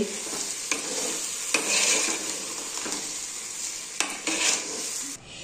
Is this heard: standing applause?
no